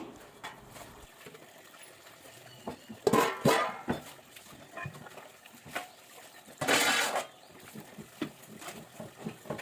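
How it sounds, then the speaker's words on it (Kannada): Pots, dishes and utensils being washed by hand produce scattered clinks, clatters and splashes of water, quiet and intermittent, with two louder bursts of clattering and faint birds in the background. "ಪಾತ್ರೆ ತೊಳೆಯೋಣ ಅಂತ ಈಗ ಪಾತ್ರೆನ ತೊಳಿತಾ ಇದ್ದೀನಿ"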